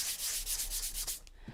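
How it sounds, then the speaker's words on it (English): Hand sanding across a painted pattern to distress it, a soft rhythmic scrubbing of repeated back-and-forth strokes, quiet and close, with no talking. "And I sand them that way because I want to create sort of a distressed appearance."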